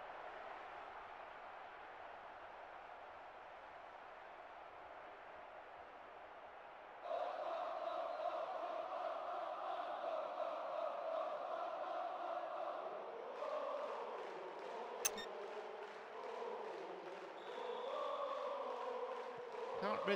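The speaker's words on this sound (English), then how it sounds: "There is nowhere quite like this for noise. The capacity crowd getting behind their team." A capacity football stadium crowd at Liverpool versus Tottenham roars and sings continuously, a distant droning mass of voices that swells partway through and keeps rising and falling.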